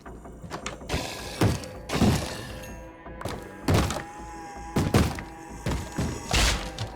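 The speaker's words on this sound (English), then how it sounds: "bang on the doors are giving me a headache" Zombies in a video game pounding on doors, a series of heavy, loud thuds and bangs at irregular intervals, close by, with no voices.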